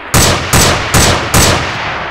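Four loud, evenly spaced gunshots in Arma 3, each a sharp crack with a rolling reverberant tail, close by and with no voices.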